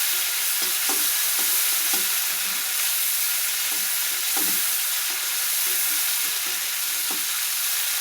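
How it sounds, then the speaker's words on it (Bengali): Rohu fish oil frying in a pan, a constant bright sizzle with recurring soft stirring knocks and scrapes spaced through the sound, no one talking. "দেখছেন মাছের তেলটা আমার ভাজা হয়ে গেছে প্রায়।"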